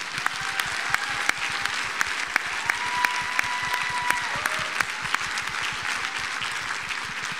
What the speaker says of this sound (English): And I want you to give Dr. Jim Galvin a round of applause.